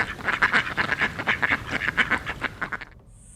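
Ducks quack in a rapid run of loud, nasal calls, overlapping one after another before trailing off into quiet at the end.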